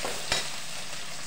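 Onions stir-fry in a hot pan for spicy vegetable noodles, a soft steady sizzle with one brief scrape of a spatula, short and close with no voices.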